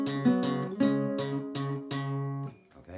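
An acoustic guitar plays the first half of the chorus of Lindsey Buckingham's "Big Love" in a fingerpicked tutorial style, about six clearly separated plucked chords ringing out one after another, close and alone before fading at the end.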